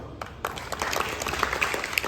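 Applause from a gathered congregation at a karate-glove donation event, uneven clapping with a few sharp individual claps standing out, fairly faint and a little distant.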